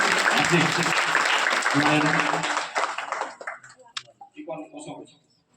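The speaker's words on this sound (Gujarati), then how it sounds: "તો ફરીથી આપણે તાળીઓથી બાળકો વધાવી દઈએ" An audience at a primary school function claps for the children, dense applause rolling for about three seconds before thinning into scattered claps and a few voices.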